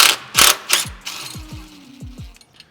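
A hand ratchet removes a sway bar nut on a Toyota A90 Supra, giving loud close clicking bursts, then a run of evenly spaced, sharp pawl clicks that fade a little toward the end.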